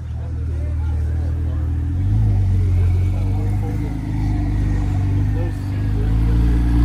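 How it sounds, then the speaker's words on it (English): A Porsche 911 (997 GT3 RS) engine at a Menlo Park cars-and-coffee meet, with a loud, steady low rumble that swells in pitch after about two seconds and holds, a voice talking over it. "The turbo spool on that 911"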